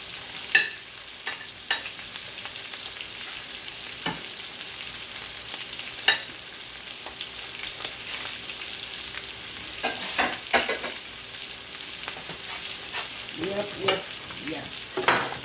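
Angus boneless beef chuck steaks sizzle steadily in a pan with their sauce, a constant close frying hiss broken by scattered scrapes and taps of a utensil.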